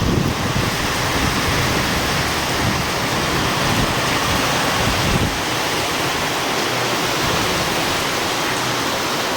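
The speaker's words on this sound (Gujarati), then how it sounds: "રોડ ઉપર અત્યારે હાલ પાણી જઈ રહ્યું છે." Floodwater from heavy village rain rushes steadily over a road, a dense, continuous broadband roar with no pauses.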